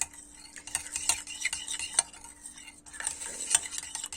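A spoon stirs rice salad ingredients in a bowl, giving soft, irregular scraping and clinking close by, with a few sharper knocks against the bowl and no voices.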